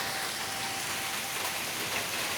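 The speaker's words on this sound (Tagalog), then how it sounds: "Talagang walang tigil ang ulan," Continuous rain falling after a typhoon, a steady, dense hiss of drops on surfaces that stays even throughout, with no voices.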